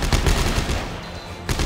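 Rapid bursts of gunfire from the sci-fi horror video game Dead Space 3 in co-op play, a dense loud volley filling most of the moment, easing briefly before another burst at the end.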